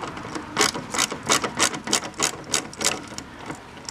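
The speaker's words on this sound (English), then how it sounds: "Ratcheting screwdrivers." Ratcheting screwdriver backing out T25 screws on a 2005-2009 Audi A4 front grille, giving quick bursts of rapid clicking, close and fairly quiet.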